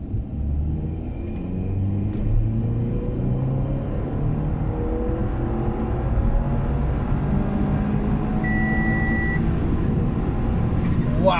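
Car engine running with ethanol-blended fuel, pulling in third gear under acceleration, a steady low drone rising gradually in pitch, heard from inside the cabin with a faint whine on top.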